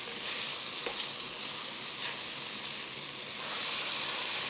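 Beaten egg for pad thai sizzles steadily in a hot pan, left to set like an omelette at the bottom, an even bright frying hiss close by with no talking.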